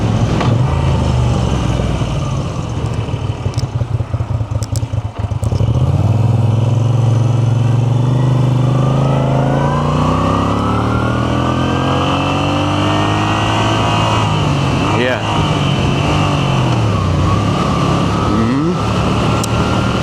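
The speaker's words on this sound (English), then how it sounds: "With this bike, by the sound of it, it seems okay" A Moto Guzzi V7 Sport motorcycle engine runs close by for the whole stretch, loud and steady, climbing through rising revs and easing back with shifting pitch, briefly dipping around the middle.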